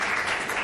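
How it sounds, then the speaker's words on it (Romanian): Brief burst of applause at a press conference interview, dense clapping filling the moment with no voices over it. "Acum dau eu cu aplauze"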